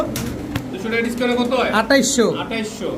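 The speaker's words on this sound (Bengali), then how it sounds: "দুই দুই জোড়া চিলা কবুতর" Chila pigeons coo softly in a pigeon market setting, low repeated calls running beneath steady nearby talk from a seller and other voices.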